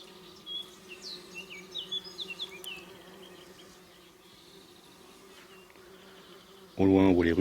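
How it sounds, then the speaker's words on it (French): Bumblebees forage on poppy flowers at seven in the morning, with beehives off in the distance. Several short buzzing passes drift close and away over a quiet outdoor background, and a sudden louder noise cuts in at the very end. "on peut déjà voir les bourdons à l'œuvre qui butinent les fleurs de coquelicot"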